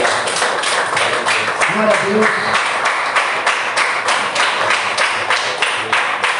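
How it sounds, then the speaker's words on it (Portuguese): Congregation clapping in rhythm at a Sunday family church service, a steady beat of claps that continues throughout, with a voice briefly calling out over it. "Aplauda ao Senhor."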